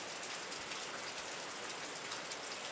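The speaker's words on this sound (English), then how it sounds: "Is the rain starting to clear up?" Steady rain falls in an even, soft hiss of drops on a surface, faint and continuous with no talk.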